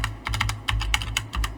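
Typing on an E-YOOSO K-620 mechanical keyboard with brown switches, a quick close run of loud clacky keystrokes in uneven bursts.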